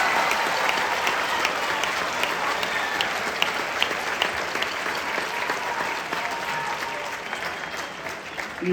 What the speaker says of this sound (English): how about a round of applause for all of our